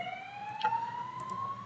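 A passing ambulance siren wails in a steady, slowly rising tone, distinct and moderately loud, heard briefly in a village setting with no talk over it.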